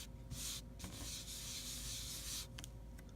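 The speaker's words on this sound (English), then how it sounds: "So I rub it here on the wet side and dry it off over here." Steady scrubbing as a hand-carved rubber stamp is rubbed over the wet side of a cleaning pad, a continuous close rasp with a brief pause near the start.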